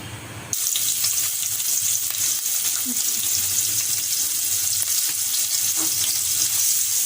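Onions frying in about two tablespoons of oil for a chicken ring samosa filling, a loud, dense, continuous sizzle that starts abruptly and holds steady throughout.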